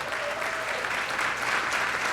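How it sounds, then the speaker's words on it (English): Sustained audience applause fills the room after a housing panel at a realtors' event, dense and steady clapping from a crowd throughout, with no voices standing out. "Can we give our panelists another round of applause?"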